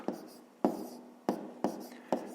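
A pen writing numbers by hand on paper during a math exercise, five sharp scratchy strokes in a steady rhythm, close and quiet.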